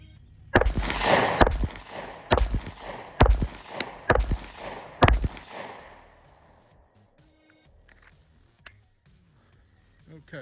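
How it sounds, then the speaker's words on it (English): Six rapid pistol shots from a compact Glock 26 fired at a 15-yard target, sharp loud cracks in quick succession over about five seconds, followed by quiet outdoor ambience. "I'm going to shoot as fast as I can and try not to zero in on my sights"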